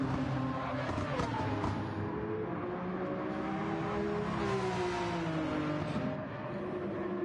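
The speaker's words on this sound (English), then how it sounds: "we hear the screaming rotary engine of Grim" A rotary-engined race car screams at high revs in Gran Turismo 7 online racing, loud and sustained with rising and falling pitch as it shifts, mixed with other cars' engine drone.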